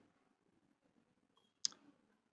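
One crisp mouse click sounds close and clear against near silence, with faint room noise before and after.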